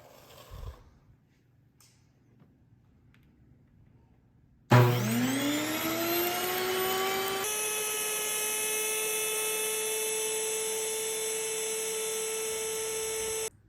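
An electric grain mill grinds whole wheat berries into flour at its slowest feed and fastest motor speed, starting abruptly after a quiet lead-in and then holding a loud, steady high-pitched motor whine and grinding drone until it cuts off.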